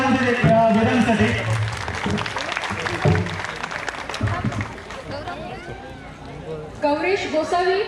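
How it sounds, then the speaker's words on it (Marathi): An outdoor crowd at a Shivaji Jayanti celebration claps for an eight-year-old speaker, with applause mixed under loud announcer speech and chatter. "जरा जोरदार टाळ्या होऊ दे वीरांसाठी"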